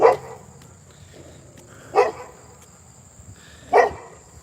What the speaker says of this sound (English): Next thing you know, fucking dog starts just yapping.